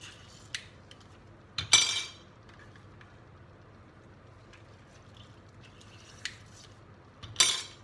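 A metal spoon stirs Turkish stuffed pepper filling for olive-oil dolma, seasoned with dried mint and lemon juice, in a pot: a few sparse, quiet clinks against the rim, spaced seconds apart, over faint room hum.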